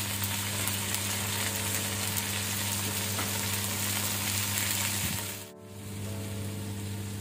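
Soaked basmati rice frying in ghee over a medium flame, giving a steady, close sizzle with faint stirring scrapes and a brief clatter near the end.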